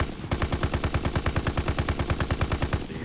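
Rapid, steady automatic fire from a BAR rifle in Call of Duty WW2, the "Cool Hand" variant, a close, loud burst of evenly spaced shots lasting nearly three seconds with no talk.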